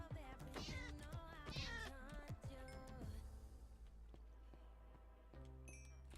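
Several video game cats meow in overlapping, wavering cries for about three seconds, then give way to a low steady background hum with faint chiming tones.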